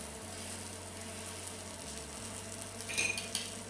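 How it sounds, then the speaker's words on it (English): A peppercorn-crusted New York strip steak sears in a hot pan, giving a steady sizzle and frying hiss with a brief metallic clink near the end. "We're just going to let this cook. Get nice and caramelized."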